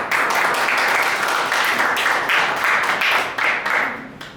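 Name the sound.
audience applause welcoming a performer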